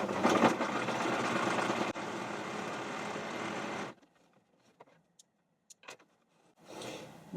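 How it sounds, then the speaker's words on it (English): Sewing machine stitching applique onto an upcycled denim jeans bag: close, steady whirring runs for about four seconds with a brief break, then a pause with small handling clicks and another burst of stitching. "We're just going to go and sew like that."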